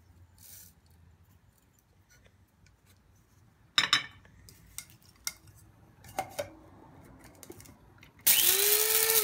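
An electric grinder whirs loudly in a burst near the end, grinding papaya seeds and fennel for a home weight-loss remedy, after some clinks of a bowl and spoon.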